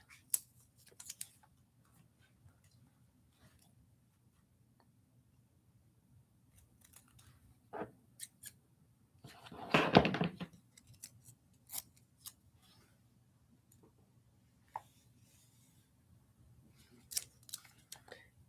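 Scissors snip through strips of washi tape at a desk, a dense burst of cutting near the middle with scattered lighter clicks and paper handling around it, close and fairly quiet against a low steady room hum.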